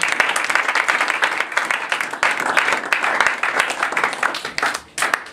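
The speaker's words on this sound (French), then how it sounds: "Acclamons pour le Seigneur." A church congregation applauding and cheering during a French-language sermon, giving a dense, steady wash of clapping with a few voices mixed in.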